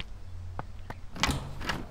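A door opening in the Botany Manor video game, two soft knocks or clicks followed by a brighter swooshing sweep of the door moving, heard near and moderately quiet.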